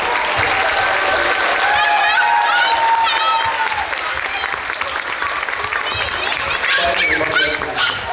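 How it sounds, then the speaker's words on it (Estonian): An audience at a youth school dance festival in Tartu County, Estonia, claps continuously after a dance, a dense, steady wash of applause with voices carrying over it. "aplaus"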